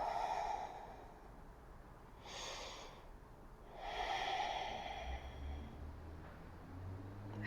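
Slow, deep breathing during a yoga pose, with a few drawn-out inhales and exhales heard up close and softly in a quiet room.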